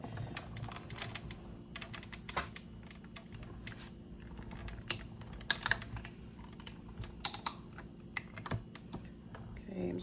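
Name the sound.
die cutting machine running cardstock through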